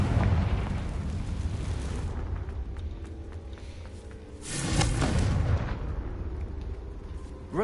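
A Confringo fire spell in Hogwarts Legacy blasts with a loud, broad explosive burst about midway through, set against a dense, rumbling game soundscape.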